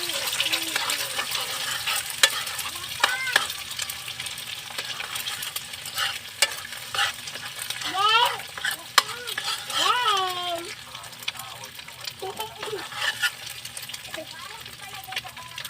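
Two eggs fry in a pan with a steady crackling sizzle and occasional clinks of a utensil, while voices talk and call out over the cooking.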